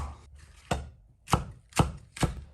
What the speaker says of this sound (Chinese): 尖椒同样切成小块